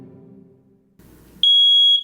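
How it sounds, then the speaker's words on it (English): A smoke detector bursts into a loud, piercing continuous electronic tone after a brief stretch of faint low noises and a soft rustle. "I find smoke detectors a marvel of engineering."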